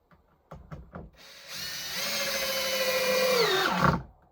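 A power drill drives screws into wooden planks while restoring an old Finnish sauna, a few short bursts followed by a sustained whirring run that rises and winds down as the screw seats, close and loud, with no talking.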